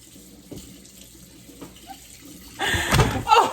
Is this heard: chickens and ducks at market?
no